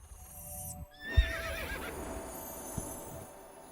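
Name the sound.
horse neighing and hooves in video game Star Stable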